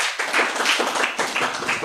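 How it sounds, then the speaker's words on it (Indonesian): Audience clapping at a religious lecture, a dense patter of many hands sustained for about two seconds, fairly close and steady. "Tepuk tangan dulu"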